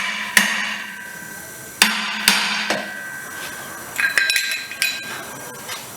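Sharp metallic hammer blows strike a brick chisel during the teardown of an HQ Holden sedan: a few loud, ringing, isolated hits, then a quicker cluster of lighter clinking taps, with no voices.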